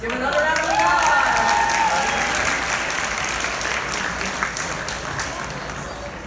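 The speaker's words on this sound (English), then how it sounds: "Yeah, let's give another round of applause." At a school sports banquet, a crowd applauds loudly and continuously while cheers and voices rise over the clapping at the start, then the ovation gradually eases off.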